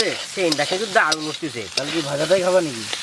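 Chicken curry made with country chicken is vigorously sautéed in a pan, giving scraping stirs over a steady sizzle, while a voice sounds loudly over the cooking.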